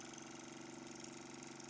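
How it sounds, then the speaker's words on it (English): A small engine runs smoothly and steadily in the middle distance after new wiring has been fitted, an even, continuous idling hum with a light rhythmic pulse, with no voices over it. "That engine's just purring lovely."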